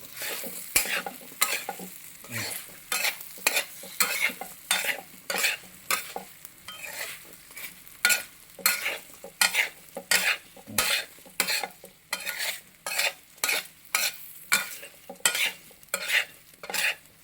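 Fried kingfish pieces stirred into fish pickle masala in a pan, Kerala style: a long run of regular, rhythmic scraping strokes roughly twice a second over a steady sizzle, close and clear.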